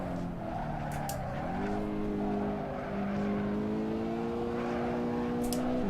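A race car in the Assetto Corsa racing game drones with a steady engine tone that dips and climbs as it shifts and revs, with occasional tire squeal, playing alone without talk.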